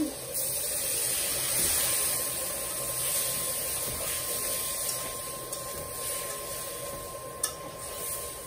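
A steady, close sizzle and stirring in a pan as a little water goes into hot spices with ground coriander for a shol fish curry; a single sharp tap near the end, and no voices.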